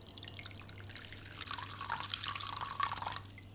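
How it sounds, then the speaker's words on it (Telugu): Water poured at home, a faint thin trickle and splashing with a few drips over a steady low hum, quiet and close, with no talking. "జస్ట్ మనం అలా వాటర్ పోర్ చేస్తుంటే"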